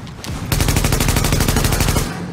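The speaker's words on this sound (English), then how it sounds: "It's explosive ammo with this guy. This machine gun." Machine gun firing explosive ammo in a video game, unleashing a loud, rapid, evenly paced burst of shots that runs about a second and a half before cutting off.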